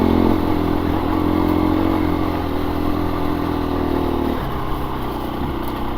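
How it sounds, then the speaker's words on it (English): A 2024 KTM 350 EXC-F dirt bike lugs along on a trail ride, its engine droning loud and close at a steady low pitch, dropping slightly near the end. "The bike just lugs along masterfully."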